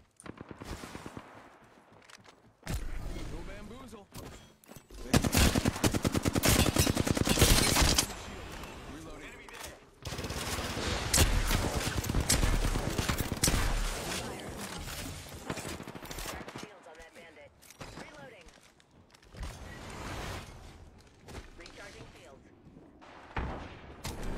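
Weapons fire in the video game Apex Legends: dense, loud bursts of gunshots come and go in uneven volleys, with players talking over the action.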